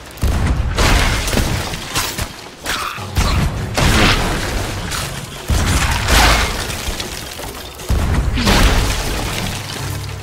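Cannons firing cannonballs in a pirate video game, four loud booming blasts at roughly two-second intervals, each trailing off into crackling debris and mechanical clatter, with no talk.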